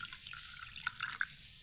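Water being added and stirred into fermented rice batter, a soft liquid swishing with a few small drips and splashes, close and quiet with no talking.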